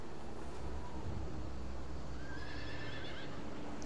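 Horses whinny over a dense, dusty background roar in a Western video game, with a drawn-out neigh rising partway through, moderately loud and without talk.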